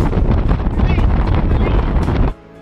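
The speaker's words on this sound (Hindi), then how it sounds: "बहुत ही तेज़ हवा चल रही है गाइस, हवा की आवाज़ भी मैं आपको सुनाती हूँ" Strong wind buffets the microphone at an India–Pakistan border zero-point viewing area at Nadabet, Gujarat, a loud, steady broadband roar that cuts off abruptly near the end.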